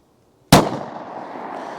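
A single sharp 9mm pistol shot from a 3-inch barrel GX4, fired into ballistic gel, cracks loudly out of near silence and leaves a long, fading reverberant tail.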